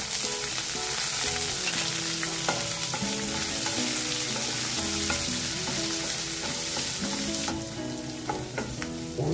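Onions sautéing in hot oil with curry leaves for a South Indian kuzhambu, a loud, continuous sizzle broken by repeated scraping and clanking of a spoon against the pan, with no talk.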